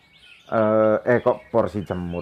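A white-rumped shama sings clear, rich whistled phrases in several bursts, close and loud, with short pauses between the melodic runs.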